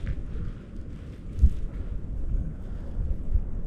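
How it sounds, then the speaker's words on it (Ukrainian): Low rumbling wind buffets the microphone in uneven gusts on a cold riverbank, with a couple of heavier thumps, no voices. "Дуже вітряно"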